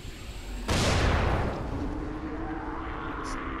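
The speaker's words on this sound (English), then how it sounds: "Explosions." A loud explosion in the video game Dying Light bursts in suddenly after a short lead-in, then fades into a long rumbling decay with lingering debris noise.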